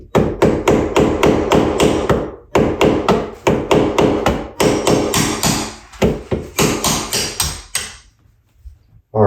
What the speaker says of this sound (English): We'll get our hammer and our nail set, see if we can knock it loose.